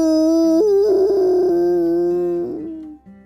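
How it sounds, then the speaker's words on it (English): A giant dog lets out one long, loud howl lasting about three seconds, its pitch stepping up and wavering before it trails off, alone with no talk. "He let out a giant howl, and Yash laughed."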